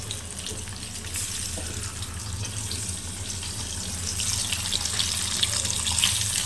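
Continuous crackling sizzle of steamed fish dumplings frying in hot oil, steady and close, growing slightly louder near the end, with no talking.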